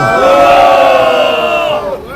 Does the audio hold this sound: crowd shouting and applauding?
yes